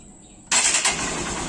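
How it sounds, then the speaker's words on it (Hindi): A Honda Shine motorcycle's electric start: a faint high whine, then the engine abruptly catches and settles into a loud, steady running rumble. "तो फाइनली एक सेल में बाइक स्टार्ट हो गई है"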